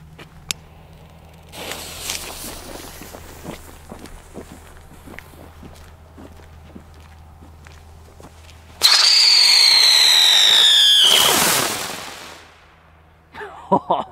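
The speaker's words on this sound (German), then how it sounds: "Das ist ein sehr lauter Pfeifkreisel mit Aufstieg und genau dieser Aufstieg kommt sehr, sehr unerwartet." A very loud whistling ground spinner firework with an ascent, a cheap single item: a loud shrill whistle that bursts out suddenly and then glides downward in pitch. It follows a stretch of quieter hissing and crackling and is close and dominant.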